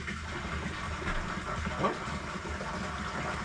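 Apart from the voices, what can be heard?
water gushing from well pump after pushing air through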